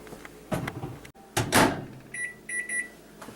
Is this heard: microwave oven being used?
yes